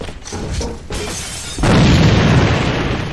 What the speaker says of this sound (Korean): 자 요것도 그냥 서서 투척 수류탄 투척